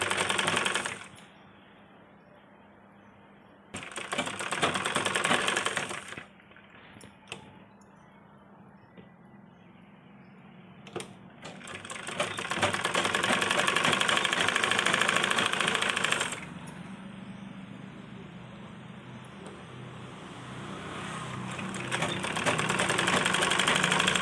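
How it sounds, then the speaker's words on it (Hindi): A sewing machine stitches the neckline of a lined blouse with a half-inch seam allowance, running in several steady whirring bursts separated by quiet pauses, close and clear. "सबसे पहले मैं गले पर सिलाई करूँगी, आधा इंच"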